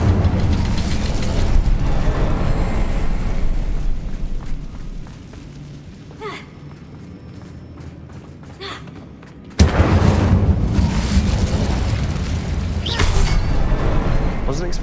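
An Incendio fire spell cast in Hogwarts Legacy, heard as loud whooshing bursts and booms, a quieter stretch, then a sudden strong blast just before the tenth second, with a voice speaking over parts.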